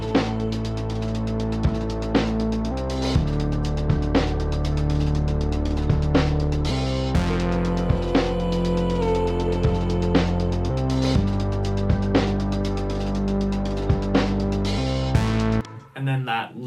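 A pop backing loop of bass line, drum loop and chopped vocal hook plays steadily and loud, with regular punchy hits and repeating sections before cutting off abruptly near the end.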